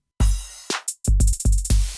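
A punchy electronic drum pattern in a hip-hop beat: a deep 808 kick, snappy snare and claps, and a crash, repeating in a steady groove with no voices.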